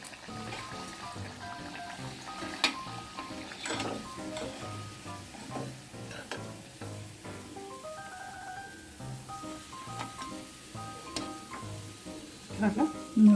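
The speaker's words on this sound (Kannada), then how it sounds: "ಕಡಲೆಬೇಳೆ ವಡೆ ತೆಗಿತಾ ಇದ್ದೀವಿ" Chana dal vadas fry in hot oil with a steady, soft sizzle and bubbling. Occasional crackles and stirring sounds rise over it, and a voice is faintly present at times.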